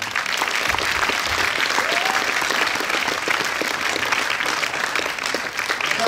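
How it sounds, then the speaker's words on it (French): An audience at a Paris film premiere applauds for Gilles Lellouche, steady and dense clapping from a large crowd for the whole stretch, with a faint voice in the mix. "On va l'applaudir aussi, Gilles Lelouch."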